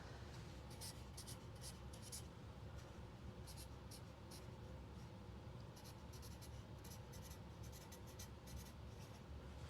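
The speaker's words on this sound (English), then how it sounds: "So now on this canvas, I write my name and the year, and the title and the medium." A pen scratches steadily across a painting canvas as the artist signs a name, the year, the title and the medium, producing soft, continuous close-up strokes over a faint room hiss.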